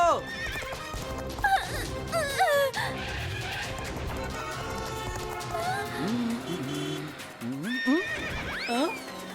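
A cartoon horse whinnies several times in shrill, wavering neighs, with hooves clopping among other busy, cluttered sounds.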